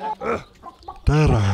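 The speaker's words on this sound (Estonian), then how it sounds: "Siga." A single short, loud pig grunt, close and abrupt, follows a brief stretch of quieter voiced sounds.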